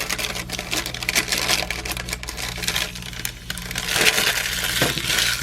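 A Caseology Parallax case for an iPhone 12 Pro Max pulled from its plastic packaging, giving a continuous close crinkle and rustle of plastic with scattered sharper crackles.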